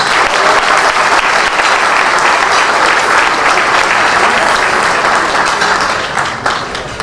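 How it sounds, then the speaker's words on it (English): A gala dinner audience of the Illyrian Society Association breaks into loud, sustained applause, a dense roar of many hands that holds steady for several seconds before thinning slightly at the end. "Let's give them a round of applause."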